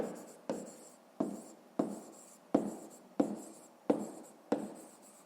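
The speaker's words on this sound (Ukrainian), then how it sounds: "Ну що ж, записуємо тоді відповідь." Pen strokes writing an answer on paper for a fifth-grade math exercise, about eight short scratchy bursts in a steady rhythm, close and clear, with no talking.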